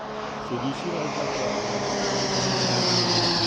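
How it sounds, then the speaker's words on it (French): Two MCR light aircraft pass low over a runway in close formation, their engines making a loud, steady drone that swells slightly as they go by, with a continuous broadband roar throughout. "deux MCR qui passent en patrouille serrée au-dessus de la piste"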